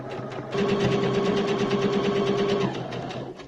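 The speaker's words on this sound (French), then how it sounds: "je viens coudre sur le bord" A sewing machine stitches along the edge of a fabric face mask, starting after a brief pause and then running steadily and close with a rapid buzzing whir for about two seconds before stopping.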